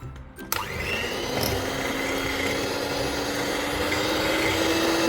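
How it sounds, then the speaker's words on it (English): An electric mixer whisks butter and sugar at medium speed for an apricot cake, giving a loud continuous whirring drone with a steady pitch that runs without pause after a brief quiet start. "we'll whisk them until the sugar granules completely dissolve into the butter"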